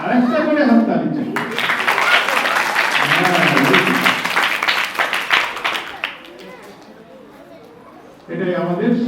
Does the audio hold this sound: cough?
no